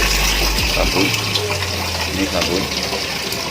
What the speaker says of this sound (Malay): Mula-mula kita masukkan air dulu, bagi air sampai pada sementara menunggu air penuh